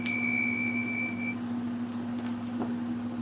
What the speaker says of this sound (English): These are Tibetan bells, I guess.